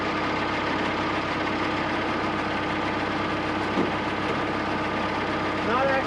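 A tractor engine idles with a steady, rumbling drone and a faint knocking, close by and continuous, with a couple of brief clunks near the end.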